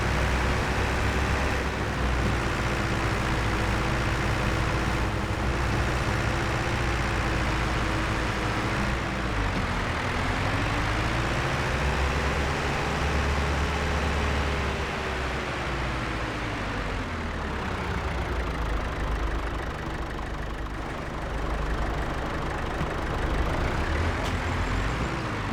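Tractor engine in Farming Simulator 25 drones steadily throughout, a loud continuous low rumble whose pitch dips and rises as the load and revs change, with no talk over it.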